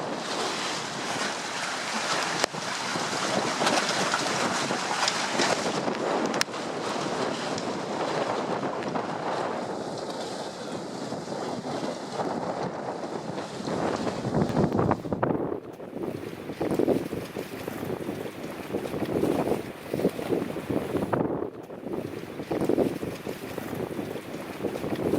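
Strong wind roars steadily across a moored sailboat, gusting and buffeting the microphone with water sloshing beneath, loud and continuous throughout without any voices.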